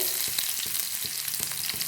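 Mustard seeds and small shallots fry in hot oil in an iron pan, a steady close sizzle with rapid crackling pops and brief stirring scrapes.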